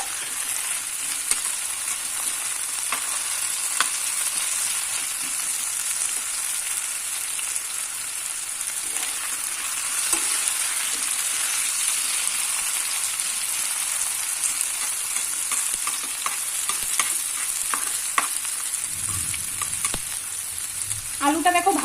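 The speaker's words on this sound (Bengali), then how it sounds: "আলুটা দেখো ভাজা হয়ে গেছে।" Potatoes fry in a pan on a gas flame for a Bengali dhokar dalna, a continuous crackling sizzle with scraping stirs, ending in a heavier clatter of movement.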